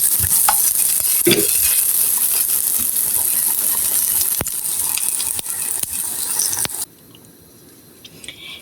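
Onions sizzle and crackle steadily as they fry in a pan for a tomato vorta recipe, a close, dense hiss broken by a few light scrapes, cutting off abruptly near the end to near quiet.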